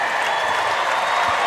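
Dense, steady roar of applause and cheering from a sold-out crowd at a women's college basketball game, Gonzaga versus UC Irvine in the NCAA first round, loud and continuous in the arena.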